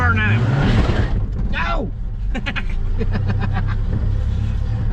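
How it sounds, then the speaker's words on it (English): A truck does a high-speed reverse burnout, its engine roaring loud and close with a rising whine and rough bursts. Someone shouts over the noise. "High speed reverse burnout."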